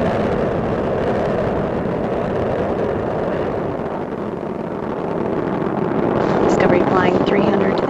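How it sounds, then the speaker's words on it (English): Space Shuttle Discovery's engines roar during launch from Kennedy Space Center, throttled down through maximum pressure, a steady, distant broadband rumble that swells slightly near the end, with a commentator's voice over it. "Discovery's engines are throttling down as the orbiter passes through the area of maximum pressure on the vehicle."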